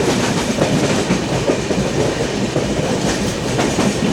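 Sleeper class train running from Mumbai towards Pune through the rain-drenched Bhore Ghat, a loud continuous rumble and clatter of wheels on rails heard from inside the carriage.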